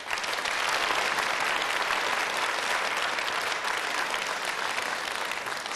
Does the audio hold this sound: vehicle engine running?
no